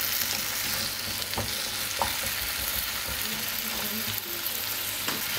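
Potatoes fry in a few spoonfuls of oil in a pan, giving a steady, close sizzle that runs the whole time, with light scrapes and clinks as they are stirred; no one speaks.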